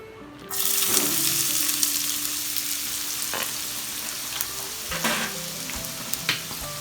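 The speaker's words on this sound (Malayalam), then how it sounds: "എണ്ണ ചൂടായിട്ടുണ്ട് ഇതിലേക്ക് സവാള ആഡ് ചെയ്യാം" Sliced onions hit hot oil with Dalda and start frying, a sudden loud sizzle that holds steady with occasional spatula scrapes, near and alone without talk.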